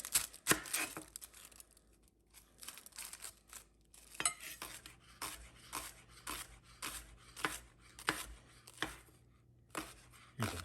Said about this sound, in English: we're going to chop up the shallot